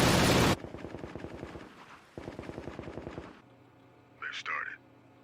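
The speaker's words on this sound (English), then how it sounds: "Stand by on the machine gun!" Rapid machine gun fire in an anime battle scene, two long rattling bursts of evenly spaced shots broken by a short gap, preceded by a loud blast of noise and followed by a brief vocal shout.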